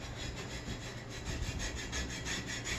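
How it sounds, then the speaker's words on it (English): A cast iron part is scrubbed to remove the last remnants of rust, giving a steady, close, gritty back-and-forth rubbing with no pauses or voices. "scrubbing where I see some, and whether this is like helping to dry it off or whether it's getting some just little last remnants of rust off"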